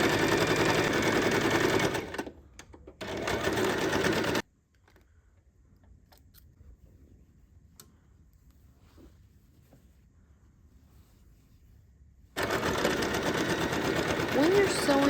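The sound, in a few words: sewing machine stitching pinned lines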